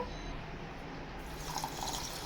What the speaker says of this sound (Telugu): షుగర్ సిరప్ కోసం సరిపోయినట్టుగా నేను వాటర్ అయితే వేసాను.